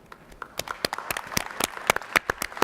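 Audience members at a community benefits session of an LNG industry conference in British Columbia clap sparsely, sharp separate claps from a few people in a loose, uneven rhythm that thickens slightly toward the end.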